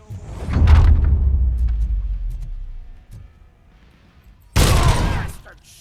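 Bursts of gunfire in RoboCop: Rogue City: a loud volley of shots opening the scene, a lone crack midway, then a second sharp close burst near the end, with scattered game noise between.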